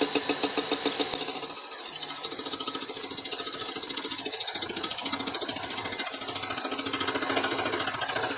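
A milling machine cutter on an aluminum case, likely beginning to nick the top of the casting, with a loud steady mechanical chatter throughout.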